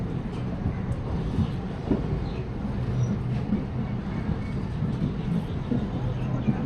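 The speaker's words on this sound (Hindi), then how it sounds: "तो ट्रेन जो है दोस्तों अपनी अराइव कर रही है अभी चंडीगढ़ रेलवे स्टेशन पर।" A passenger train pulls into Chandigarh railway station with a low continuous rumble of wheels and carriages, heard fairly close under someone talking nearby.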